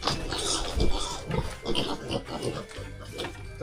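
A pig grunts and oinks close by in a series of rough, irregular snorts. Background noise and faint voices run underneath.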